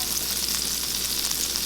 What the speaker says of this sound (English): 2 tablespoons of butter, guys. Okay, and then put your garlic now.